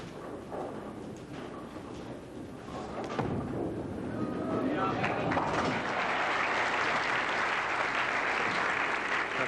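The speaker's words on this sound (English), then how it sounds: "Applauding on his way back." Crowd applause at a 1983 professional bowling tournament builds from scattered claps into steady, loud clapping that fills the second half, with a voice speaking over the start.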